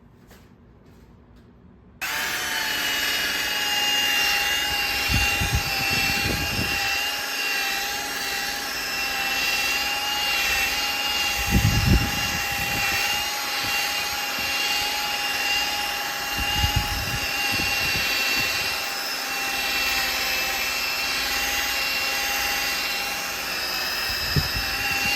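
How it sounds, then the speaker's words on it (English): A drill fitted with a polishing bonnet spins up and runs continuously against a wall of acrylic Venetian plaster, a close, steady motor whine with a few low thumps and rubbing surges as it buffs. "You can see that I used my drill with a polishing bonnet on it."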